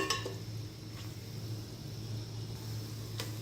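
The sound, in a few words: frying and stirring koftas with spices in a pan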